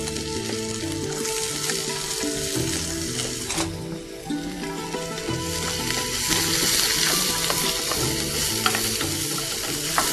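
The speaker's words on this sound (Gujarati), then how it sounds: "તેલ ગરમ થાય એટલે 1 ટીસ્પૂન જેટલું ગાર્લિક, ચોપ ગાર્લિક છે એ લઈએ છીએ. એમાં જ 2 ટેબલ સ્પૂન જેટલી ચોપ્ડ ઓનિયન લઈશું." Chopped garlic and onion sizzle steadily in hot oil for a beans and corn salsa, with a continuous close frying crackle and intermittent stirring scrapes throughout.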